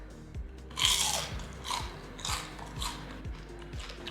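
Close, crisp crunching of someone biting into and chewing pieces of crispy fried fish caught ice fishing, with repeated bursts of crackling bites over a low steady background hum.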